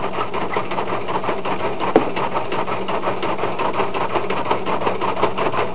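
A new-style gas granular cutter machine chopping wood blocks for a wood gas car runs with a loud, steady rapid clatter of blades and mechanism, a continuous mechanical chatter with one sharper knock near the start.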